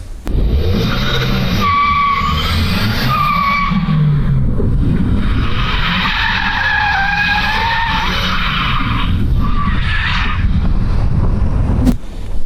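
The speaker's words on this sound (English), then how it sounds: "We're gonna lower it down, torque down these guys, and we're gonna do a burnout probably." A rear-wheel-drive Audi B8 A4 does a burnout, its tires screeching loudly and steadily over a roaring engine for about twelve seconds, with the pitch of the squeal wavering throughout.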